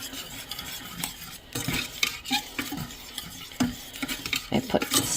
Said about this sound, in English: Stirring up my homemade Alfredo sauce.